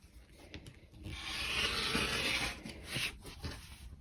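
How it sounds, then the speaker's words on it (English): A wooden strip being cut gives a rasping, rubbing stroke that swells in the middle and then breaks into a few shorter scrapes, close and fairly loud. "I will cut another strip."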